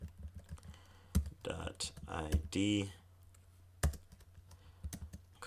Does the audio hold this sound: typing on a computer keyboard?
yes